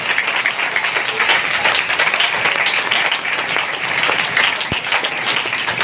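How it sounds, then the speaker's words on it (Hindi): Congregation at an Urdu church sermon applauding for Jesus Christ, dense, loud, continuous clapping from many hands that fills the whole stretch without a break. "आइए जोरदार तालियां यीशु मसीह के लिए"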